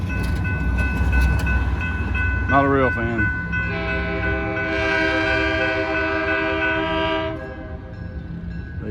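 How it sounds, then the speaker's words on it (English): A heritage locomotive train passes in Greensburg, Indiana, sounding a loud multi-tone horn in several sustained blasts over rumbling rail noise, with a brief comment spoken early on. "All right, here we go. Train's finally coming."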